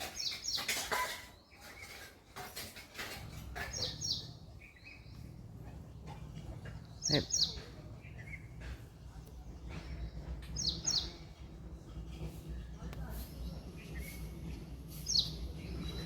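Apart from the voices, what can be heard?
small birds chirping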